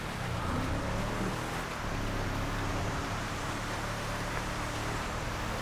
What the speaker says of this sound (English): The engine on this is just really good, really powerful